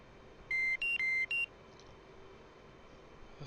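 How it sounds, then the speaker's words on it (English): Home fuel warning buzzer in a flight simulator game sounds as four short electronic beeps in quick succession, two tones alternating, clear over a low steady engine hum. "That home fuel buzzer just bugs me."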